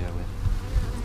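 Honey bees hum at a modest-sized hive during a honey harvest, a steady low droning buzz close to the listener, loud and continuous for about a second.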